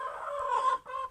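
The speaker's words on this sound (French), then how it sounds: "mes grosses poules sont ici" A big hen clucks close by in a short burst of throaty, rhythmic calls with a brief break near the end, alone with no voices.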